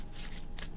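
Tarot cards shuffled by hand up close: two brief, soft riffling bursts against a quiet background, with no voices.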